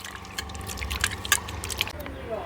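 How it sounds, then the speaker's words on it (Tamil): Soaked tamarind squeezed by hand in a bowl of water for rasam, giving soft wet squelching and dripping sounds, faint and close, over a low background hum. "இப்படி கை வச்சு நல்லா கரைச்சி அதில் உள்ள சக்கையை பூரா வெளியில் எடுத்துடணும்"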